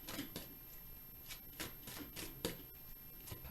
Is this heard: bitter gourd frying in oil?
no